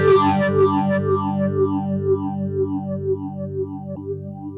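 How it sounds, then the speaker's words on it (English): A distorted electric guitar sustains chords through a BOSS PH-3 phaser pedal in fall mode, its sweep constantly sliding downward, giving a steady, swirling, falling shimmer with no one talking. "it has fall, which makes it sound like the phaser's constantly going down instead of up and down"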